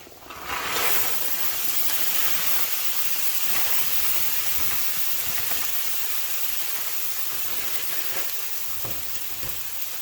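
Hash browns sizzle loudly on a hot griddle, a dense, steady crackling hiss that fills the space with no one speaking.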